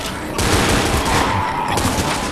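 Sustained gunfire in the co-op zombie shooter Left 4 Dead, a dense, loud, continuous clatter of rapid shots with no pauses, starting abruptly and running to the end.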